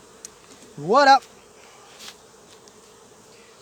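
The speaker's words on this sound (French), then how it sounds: "j'ai plein d'abeilles là-dessous, mais elles ne me dérangent pas" Honey bees buzz around a beehive outdoors, a short rising and falling drone close by, followed by a quieter stretch while someone says a word in French.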